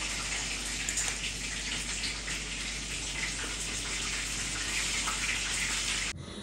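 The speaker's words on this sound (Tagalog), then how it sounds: "Pero di naman super dami yung tubig. Mga kalahati na lang doon sa bathtub ba." Water running into a half-filled bathtub for a bubble bath, a steady loud rushing gush that continues unbroken and then cuts off abruptly near the end.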